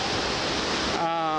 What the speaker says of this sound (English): The Genesee River runs right smack through the middle of downtown Rochester.